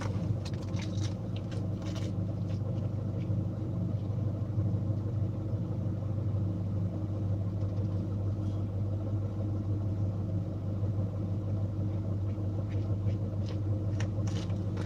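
A Citroen Berlingo van drives along with a low, steady engine rumble and road noise, close and continuous, with faint rattles and taps over the top.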